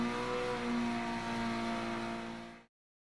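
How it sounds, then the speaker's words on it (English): Abarth 595 in Gran Turismo 7 sliding through a victory skid, a loud steady engine drone with held tonal whine that cuts off abruptly before the end. "a victory skid as we make our way to the drift section"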